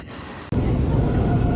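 A KTM Komuter train at a station near Batu Caves, a steady loud rumble of rolling stock that starts abruptly and carries on without a break.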